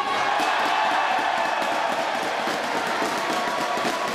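A basketball crowd roars and cheers after Diego's steal and dunk in a Winner versus Rio Claro game, a loud, dense, continuous wall of arena noise that stays steady to the end.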